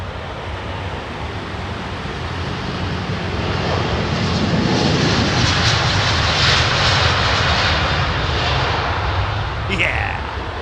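A Boeing 787 Dreamliner takes off at Heathrow, its jet engines swelling into a loud, broad roar that peaks mid-clip and stays strong, with a few faint voices in the background.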